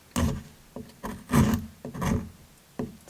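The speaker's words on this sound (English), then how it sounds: "I'll be using them to cut this and to see how good this thing cuts up different surfaces" An MKM Isonzo budget folding knife cuts across a dry surface in five short, rasping strokes, each a brief scraping burst with pauses between, close and moderately loud.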